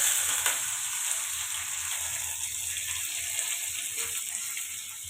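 Mustard seeds and curry leaves sizzling in hot oil, a continuous bright hiss with a few sharp pops near the start, steady and close.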